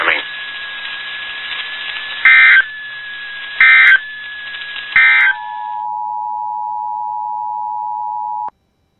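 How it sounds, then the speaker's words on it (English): Emergency Alert System tones: a harsh two-tone attention signal broken by three bursts of data-style screeches, then a steady single tone that holds for several seconds before cutting off abruptly. "Had this been an actual emergency or dangerous situation, official messages and directions would have followed the alert tones."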